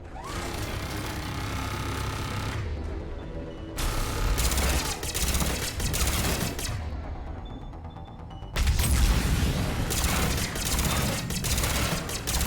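Sustained rapid gunfire from combat against engineers in the video game Mass Effect 3, dense bursts of automatic shots that swell louder in the middle and near the end, with only brief dips between volleys.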